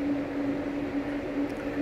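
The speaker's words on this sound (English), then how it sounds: "the noise you hear is the fans running constant because I grounded them" Car cooling fans grounded to run constantly, installed alongside late-model dash electronics, give a steady, even drone with a faint constant hum, continuous and unbroken through the short stretch with no voices.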